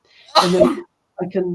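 A single sharp sneeze bursts out close by, followed after a short pause by a person speaking.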